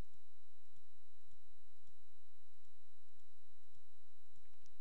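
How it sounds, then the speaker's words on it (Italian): A computer mouse button clicks repeatedly at a quick, fairly even pace, soft and close against a quiet background with a faint steady electronic hum. "teniamo premuto il tasto CTRL ed effettuiamo un clic su ciascuna immagine da aggiungere"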